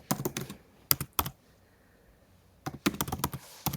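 Fingers type on a computer keyboard in two close bursts of rapid clicking keystrokes separated by a quiet pause, with no talk.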